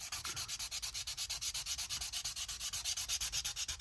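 Rhythmic back-and-forth rasping of a Godhand 240 grit sanding sponge on the roof of a 1949 Mercury scale model car, about six steady strokes per second, close and continuous with no talking.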